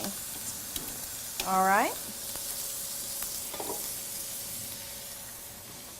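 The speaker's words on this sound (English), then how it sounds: "I really want to focus on searing that meat in the pan" Beef sears in a hot pan for a watermelon beef stir fry, giving a steady bright sizzle and crackle throughout, with a short spoken remark partway through.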